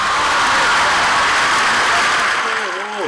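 A studio audience claps steadily for contestant Kala on a live Pakistani kids' game show. The applause is dense and close, with a presenter's voice rising over it near the end.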